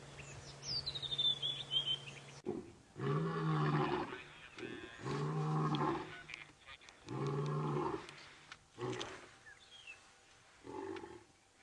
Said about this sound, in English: Lions roaring. Such an awesome sound.